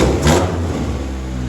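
A Honda Civic engine runs close by with a steady low rumble. A brief rev near the start lifts the pitch before it settles back to a rough, slightly uneven idle.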